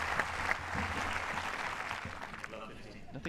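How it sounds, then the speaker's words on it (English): Tennis crowd applauding a superb forehand shot in a Dimitrov versus Tipsarevic exhibition match, a steady wash of clapping that holds for several seconds. "this time it's Dimitrov who leads the applause"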